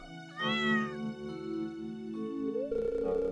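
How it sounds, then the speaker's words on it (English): Stray cat meowing in the farming video game Stardew Valley, one drawn-out meow over steady game music, loud and close. "You see this cat here?"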